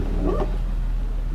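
A dog gives a single short bark or yip, close by, followed by low background rumble.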